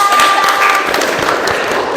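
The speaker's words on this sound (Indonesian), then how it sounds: "tepuk tangan untuk kelompok" Classroom applause greets a student group about to give their presentation, a steady dense patter of clapping lasting throughout with a faint tone beneath.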